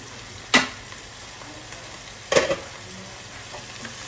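Tomatoes sauté in a pan for Kerala varutharacha kadala curry, with a faint steady sizzle under two sharp stirring scrapes, with no voices.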